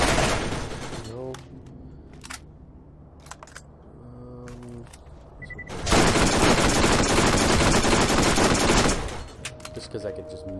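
Gunfire from a magazine being emptied in the shooter video game Borderlands: a sustained, loud burst of rapid shots for about three seconds in the middle, with sparser game sounds before and after.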